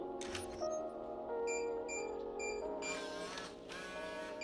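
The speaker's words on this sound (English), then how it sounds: "You hear 2 beeps and the lock button will flash green as the deadbolt retracts." A Kwikset Powerbolt 250 electronic door lock sounds a short sequence of clear, high-pitched beeps as the deadbolt retracts, close and distinct, with no talking.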